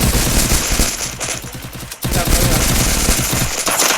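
Loud, continuous rapid-fire Uzi bursts in the battle royale game Free Fire, close and dense, with a brief pause midway before the firing resumes.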